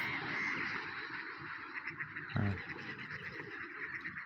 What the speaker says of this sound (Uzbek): Mana qolgan o'rdaklarim kelishyapti oldiga